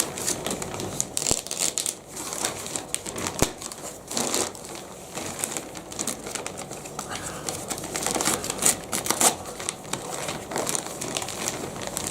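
Star Wars–themed wrapping paper crinkles and rustles as a package from a comic book haul is torn open, a steady run of close, crackly crumpling with sharper bursts throughout.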